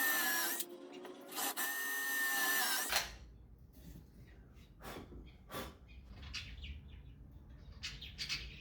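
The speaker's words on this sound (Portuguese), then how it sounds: "eu começo a parafusar as peças." A power tool driving screws into desk pieces in a home garage, two loud whirring bursts close up, then quieter taps and handling noises with faint bird chirps outside.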